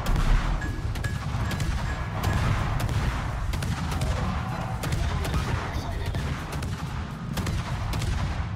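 Dense naval gunfire from warships in World of Warships, with the battleship Amagi firing amid a barrage of shells, a continuous loud rumble of booms and blasts throughout.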